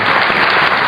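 A brief burst of group applause, a thick, continuous clatter of clapping that holds at a steady level for under a second.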